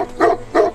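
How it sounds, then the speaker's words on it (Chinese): A big Tibetan mastiff gives two deep, loud barks close by, evenly spaced with a short pause between them. "一只汪汪直叫的大藏獒引起了一代智将嬴吉的注意"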